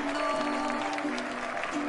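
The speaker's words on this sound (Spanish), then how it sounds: "¡Fuerte ese aplauso!" Studio audience applause greeting the introduction of Chilean artist Violeta Parra, a steady patter of clapping under a sustained tonal hum, moderate in level with no speech.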